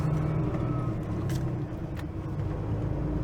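A vehicle towing a trailer rounds a corner on a road, its engine a steady low rumble close by, with a couple of faint higher hisses over the drone.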